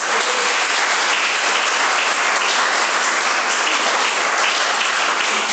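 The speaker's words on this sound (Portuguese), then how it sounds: "Dê uma salva de palmas para Jesus" Steady, dense applause from a church congregation gathered for an evening service, loud and sustained without a break, with no voices standing out.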